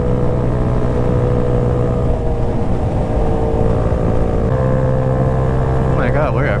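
A tiny CRV minibike (Comfortable Runabout Vehicle) engine drones steadily and loudly while being ridden, a constant buzzing hum with slight pitch shifts and a rising whine near the end.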